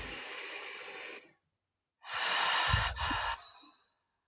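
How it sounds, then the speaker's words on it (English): One long, deep breath is heard up close: a steady airy inhale, a brief pause, then a longer, louder breathy exhale ending in a sigh, with no talking. "after a really big deep breath,"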